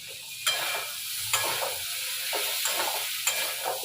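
Vegetables with spices stirred in a pan for a sweet-and-spicy vegetarian dish, a steady frying sizzle broken by several sharp scraping strokes of the spoon, close and fairly loud, with no voices.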